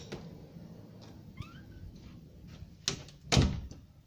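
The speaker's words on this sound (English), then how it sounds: "and then close the door behind you" Soft shuffling is followed by a click and then a solid thud as a door shuts nearby in a small room, otherwise quiet.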